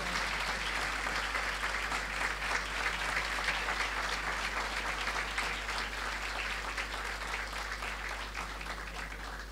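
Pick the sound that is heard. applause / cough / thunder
applause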